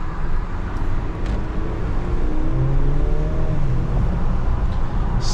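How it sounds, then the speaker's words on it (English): Steady engine and road drone from inside a 2023 Mercedes GLC 300 4matic accelerating under paddle shifting, with a faint rising turbo whir over a constant low rumble, close and continuous. "There's that turbo again."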